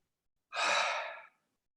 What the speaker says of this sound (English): So let's begin breathing